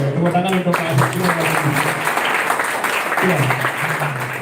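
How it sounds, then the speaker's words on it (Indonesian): An audience claps at a Balinese language month event in a sustained burst lasting a few seconds, under a loud voice speaking over it. "Tepuk tangan untuk Pak Sekjur."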